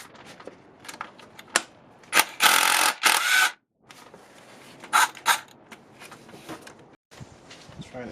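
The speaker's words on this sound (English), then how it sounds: "I'm going to take these two bolts off here. Power steering pump, 10 millimeters." Wrench work on the 10 mm bolts of a 2004 Honda Pilot power steering pump: irregular metallic clicks and scrapes, with two louder bursts of ratcheting or rattling, close up and without talk.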